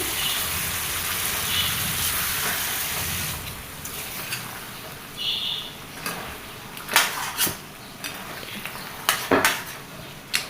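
Cooked goat head meat curry is stirred into hot oil: a low sizzle at first, then scattered clinks and scrapes of a metal spoon against the pan, close and moderately quiet, with no talking.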